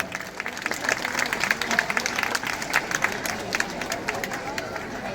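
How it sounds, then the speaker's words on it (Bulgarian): Festival crowd applauds the Horovodets folk dance group from Sofia on an outdoor stage, dense steady clapping with a few sharp peaks, mixed with crowd murmur and an announcer's voice. "Силни аплодисменти за хороводец от град София"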